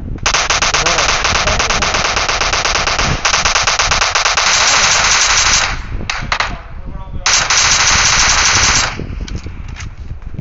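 Video game shotgun fire during a ranked live-stream match, a loud, dense barrage of close rapid shots in long bursts with a short gap, with faint voice chat underneath.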